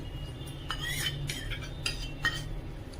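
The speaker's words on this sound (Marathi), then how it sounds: "आणि व्यवस्थित फेटून घ्यायचंय." A spoon beats half a cup of yogurt in a bowl, clinking and scraping against the sides in quick irregular strokes, close and clear with no talking.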